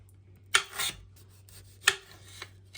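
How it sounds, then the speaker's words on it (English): A knife roughly chopping red onion on a board at home: two crisp, scraping cuts about a second apart, then a fainter third, close and quiet with no talk. "Okay, you make sure you chop this roughly."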